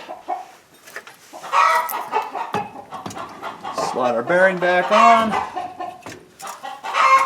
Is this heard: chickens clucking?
yes